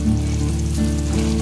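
Mutton sukka masala sizzles and bubbles in a pan as a steady, dense frying hiss, close and continuous, with no voices.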